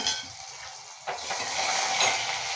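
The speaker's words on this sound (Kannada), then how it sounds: "ನೋಡಿ ಪಟ ಪಟ ಅಂತ ಸಿಡಿಬೇಕು ಪಟ್ ಪಟ್ ಅಂತ ಇದೆ" Tempering for a greens sambar: seasoning spluttering and crackling in hot oil in a pan, faint at first and then a sudden burst of close sizzling that holds to the end.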